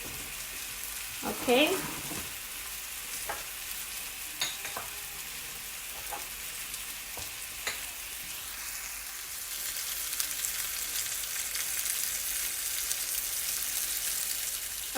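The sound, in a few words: salmon steaks searing in a pan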